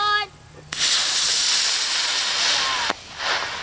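A sudden loud, harsh hiss of a two-stage model rocket's motor igniting and roaring steadily for about two seconds before cutting out, with faint tones just before.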